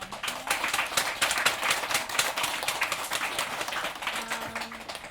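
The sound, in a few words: audience round of applause for performers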